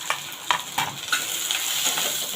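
Onion and garlic cloves sauté in a pan for a stuffed bitter gourd filling, a steady sizzle broken by a few sharp scraping stirs, close and alone.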